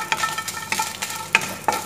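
Dried red chillies and curry leaves fry in hot oil in a pan for sambar, a steady crackling sizzle broken by a few sharp pops and stirring scrapes, close up with no voices.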